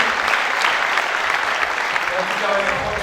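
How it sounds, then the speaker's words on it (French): Steady, dense applause fills a sports awards ceremony hall, a broad wash of clapping from a large crowd held at an even level throughout, with a faint voice briefly surfacing near the end. "on vous applaudit, bravo"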